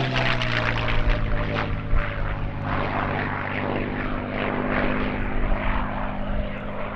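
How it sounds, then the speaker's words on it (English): Propeller aircraft with a new paint scheme, formerly an RAF 122 Squadron machine, making a powerful airshow display flypast at Duxford: a loud, steady droning engine roar with strong harmonic hum, sustained throughout. "Characteristically powerful display here by Esker Landau, showing off the aircraft's new paint scheme to great effect."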